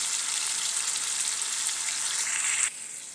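Potatoes frying in a pan of oil give a dense, even, close hiss that drops noticeably quieter near the end, with no voices.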